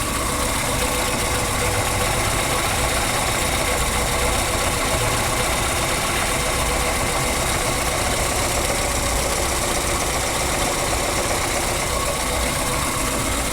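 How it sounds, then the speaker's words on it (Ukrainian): A VAZ 21083 with a 1.5 engine idles after a full cylinder head rebuild, giving a steady, dense, close-miked mechanical hum with faint ticking and vibration that holds unchanged throughout, with no voices. "Ось так працює машинка після капремонту головки блока циліндрів."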